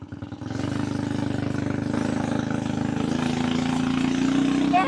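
A 2-wheel drive minibike engine runs steadily near the listener at around 3,800 RPM, a loud, buzzing, evenly pulsing drone that holds for the length of the clip.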